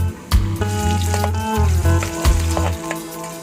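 Onion frying in oil with garlic for mussels cooked in Sprite, a steady close sizzle running throughout with a few brief clinks and stirring scrapes on top, no talk.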